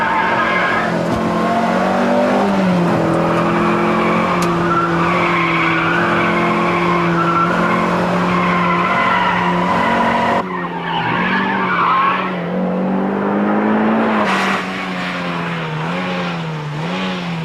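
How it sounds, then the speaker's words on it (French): A Berlinette sports car engine roars loudly from inside the cabin, a sustained steady drone that shifts pitch mid-way as the car changes speed, then rises again in a rev toward the end, with no one talking. "le bruit du moteur dans l'habitacle"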